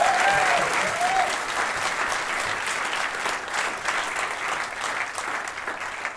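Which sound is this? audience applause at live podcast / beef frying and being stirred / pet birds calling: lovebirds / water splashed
audience applause at live podcast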